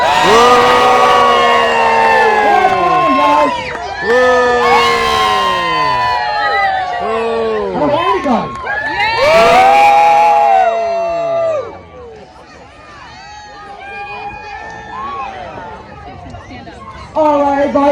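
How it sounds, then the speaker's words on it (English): A crowd at a farm pig race at Harbes Family Farm cheers, whoops and chatters loudly for about eleven seconds, then settles into quieter hubbub before rising again briefly at the end. "let me hear it loud for Buddy Blue!"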